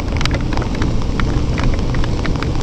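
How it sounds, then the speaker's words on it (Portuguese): Heavy rain pours steadily and loudly on the way to the beach, a dense continuous wash of falling water with scattered sharper drops, no voices. "Nossa, tá chovendo bem agora, hein?"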